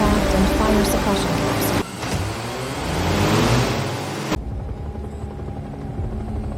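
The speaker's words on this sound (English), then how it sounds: "The firefighting drones launch immediately." Firefighting drones launching for a wildfire response, giving a loud, steady rotor-like engine roar that shifts in tone partway through and then continues at a lower, duller level.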